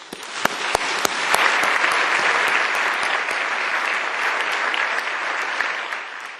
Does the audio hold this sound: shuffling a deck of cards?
no